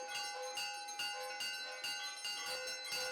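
Temple bells ringing at evening puja in Benares, struck in a steady, repeated rhythm, metallic and fairly faint as if heard from a short distance.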